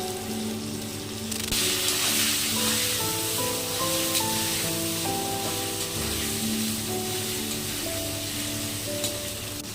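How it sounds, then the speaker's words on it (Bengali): Potatoes frying with salt and turmeric, for a spiny gourd dish, give a steady sizzle that holds close and even throughout, with occasional faint stirring and no talk. "আলু হয়ে এসছে, আর অল্প ভাজা হবে।"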